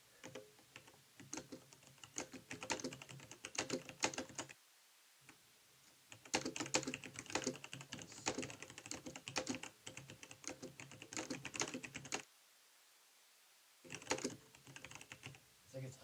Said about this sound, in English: It's like a typewriter. I love it. You like it? I love the typewriter.